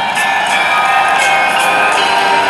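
Crowd at an outdoor rap show, Red Bull 64 Bars at La Prima Estate 2023 in Lido di Camaiore, cheers and applauds in a steady, loud wash of noise with no gaps.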